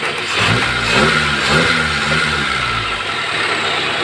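Mitsubishi Lancer engine revving unevenly and misfiring, a close, loud running engine with rising and falling revs and rough, stumbling pulses throughout, no talk.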